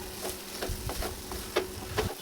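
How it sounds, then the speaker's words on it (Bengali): Chickpeas frying in a pan while being stirred, with a low continuous sizzle and a series of soft scraping strokes at an uneven rhythm, close and fairly quiet with no talk. "এখন 2-3 মিনিট ভালো করে জাল করে একটু নেড়ে ছেড়ে নিব"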